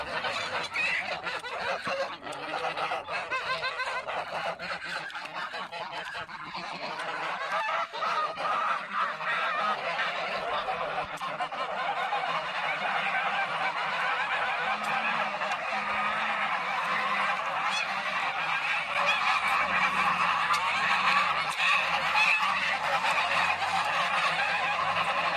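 Farm geese, one large goose and one smaller grey goose, honk and cackle almost without pause in a noisy, close-up squabble that grows a little louder partway through.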